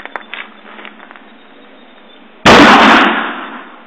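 A single loud gunshot from an 1860 cap and ball revolver cracks sharply after a few seconds of quiet handling noise, then rings briefly as it fades.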